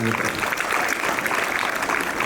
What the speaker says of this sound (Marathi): त्या दीदीसाठी सुद्धा एकदा जोरदार टाळ्या वाजवा